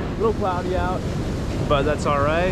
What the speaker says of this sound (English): It is a little loud with the ocean right here.